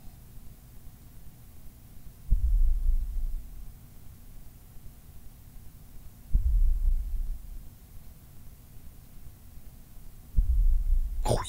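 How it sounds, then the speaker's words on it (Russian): Heartbeat in the horror video game Layers of Fear: three loud, muffled, booming heartbeats spaced about four seconds apart over a low, steady ambient hum, with nothing else in between. "Это сердце бьется."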